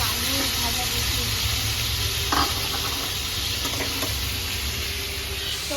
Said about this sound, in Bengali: কাবুলি করার জন্য আজকে আলু ভাজা বসিয়ে